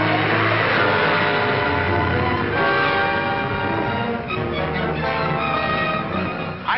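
An old 1941-era car drives fast during a chase, its engine roaring loudly and steadily throughout, with no talk over it.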